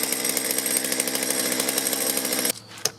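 A warmed-up chainsaw engine runs loud and close at a steady high idle with a buzzing, pulsing drone for about two and a half seconds, then cuts off abruptly, followed by a brief clunk.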